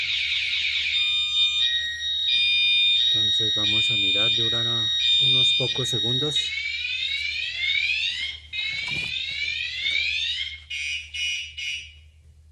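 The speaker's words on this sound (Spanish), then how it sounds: "Entonces vamos a hacer la apertura de la puerta. Tiene un interruptor, un switch. Ahí se alarma." A car alarm triggered by a door switch sounds a loud electronic siren cycling through shifting tones and warbles. The tones repeat in bursts, with someone speaking briefly over them.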